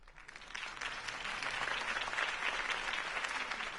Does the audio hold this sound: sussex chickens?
no